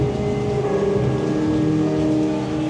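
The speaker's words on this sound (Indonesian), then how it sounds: "Ini kebetulan lagi hujan guys" Rain falls steadily outside a house during a home tour, a constant broadband hiss mixed with a faint tonal hum and no one speaking.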